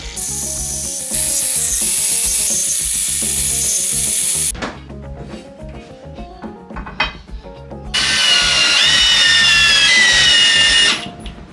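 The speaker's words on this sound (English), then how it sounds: "So pulled out the angle grinder for that." An angle grinder trims the end of a rail for a reclaimed timber shed door, a loud, close high-pitched whine in two long passes with a quieter gap between them.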